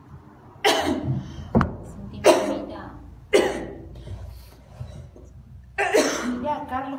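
Several sharp, harsh coughs from girls burst out one after another with pauses between, close by, alongside a brief line of speech.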